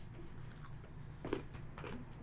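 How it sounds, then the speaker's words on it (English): Someone chews loudly, with soft crunching bites and wet mastication sounds. It is close and fairly quiet, with one sharper crunch in the middle. "You're chewing too loud."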